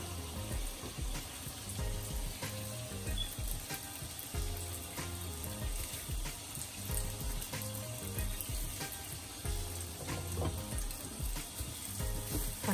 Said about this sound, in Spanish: Vamos a poner a asar nuestros chiles.